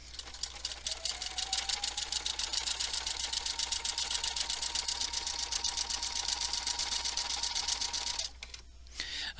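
An embroidery sewing machine stitches a shamrock design in fast, even needle clicks, a steady mechanical rattle with a faint motor whine underneath, stopping near the end.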